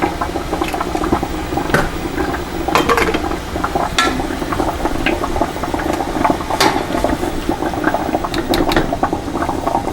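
Fatty liquid drains from cooked food in a steady wet trickle. Small clinks of a lid or jar sound intermittently through it, with no voices.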